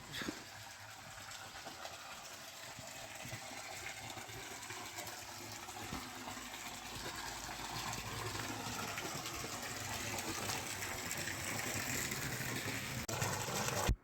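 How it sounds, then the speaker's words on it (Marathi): A year-round stream flows beside the Shukacharya rock-cut caves at Tadachiwadi, Khanapur, Sangli, making a steady, rushing gush of water that grows gradually louder and closer. "हा पाण्याचा जरा अखंड वर्षभर वाहत असतो"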